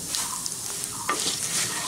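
Dried red chillies, a bay leaf and cumin seeds hit hot oil left from frying snake gourd, giving a steady close hiss of sizzling with a brief clatter of stirring partway through.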